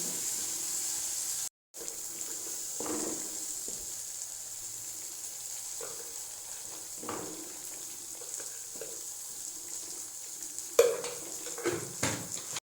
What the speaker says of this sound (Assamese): আৰু এইফালে মই মছলাটো ভাজি আছোঁ ধুনীয়াকৈ